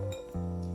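A whisk clinks lightly against a bowl while folding a portion of egg whites into egg yolk mix for fluffy Japanese soufflé pancake batter, a brief close tinkling sound with a short pause in the middle.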